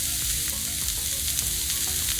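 Onions and other ingredients are sautéed over high heat on a Blackstone griddle, giving a dense continuous sizzle up close with light stirring and scraping under it. There are no voices.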